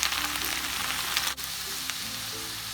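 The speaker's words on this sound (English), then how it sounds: "When all the stickiness disappears, then our bhindi is fried." Sliced okra (bhindi) fries in an oil-filled pan until its stickiness is gone, a loud, close, steady sizzle with a brief stir or scrape partway through and no voices.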